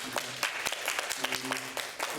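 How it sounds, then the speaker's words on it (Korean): Church congregation clapping in welcome during a Sunday service, a moderately quiet patter of hands with some voices in the room. "내려오셨는데 우리 환영의 박수 한번 부탁드리겠습니다."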